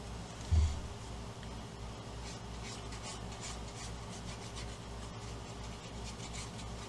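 A small paper trimmer slices a scrapbook photo, giving a steady, close rasping scrape that runs unbroken over several seconds with a faint rhythmic grain and one soft bump near the start.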